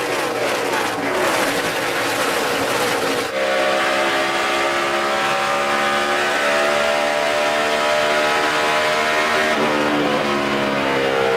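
NASCAR stock car engines racing at the 2012 GEICO 400, a loud continuous roar with rising and shifting engine pitch and a crowd-like wash beneath, loud throughout with no talk.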